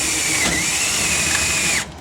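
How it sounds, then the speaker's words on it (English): A power drill drives a screw for a DRIPLOC Original Type #1 hinge kit, whirring steadily at close range and pitching down as the screw bites, then cutting off abruptly near the end. "you see how he's kind of letting that drill stop when it bites?"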